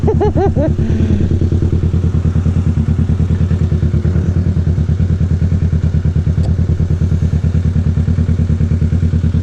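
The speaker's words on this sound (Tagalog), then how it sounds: "ganda ng motor guys, oh. Harley Davidson." A Harley-Davidson motorcycle engine idles close by with a steady, loud, deep rhythmic thump that holds through the whole stretch, with a brief rev near the start.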